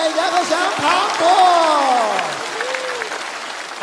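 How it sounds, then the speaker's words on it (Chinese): A studio audience at a stand-up and crosstalk comedy show applauds the comedians, a broad wash of clapping running under loud, animated speech and exclamations from people on stage. "掌声送给杨和祥庞博"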